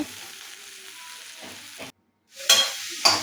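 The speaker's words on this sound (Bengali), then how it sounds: "পনিরগুলো দিয়ে দিল এবার ভালো করে ওটাকে নাড়তে হবে" Paneer stirred with salt in a hot pan, a close sizzle broken by scraping spatula strokes, then a brief silent gap before two loud, bright bursts of stirring and frying.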